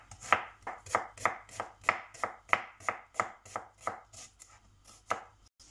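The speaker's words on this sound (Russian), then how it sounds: "200 грамм лука мелко нарежу." A knife finely chops onion on a board in quick, evenly spaced strikes, about a dozen crisp close taps with a brief pause near the end, no voices.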